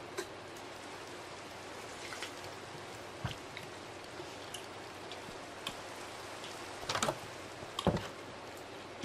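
Rain in the video game Minecraft, a constant soft hiss of falling drops with a few louder individual splats and taps near the end.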